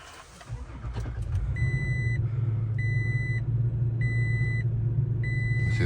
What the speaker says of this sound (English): So let me turn the truck back on.